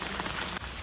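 Heavy rain pours steadily, a loud, dense, continuous hiss of water striking surfaces with no breaks through the brief moment.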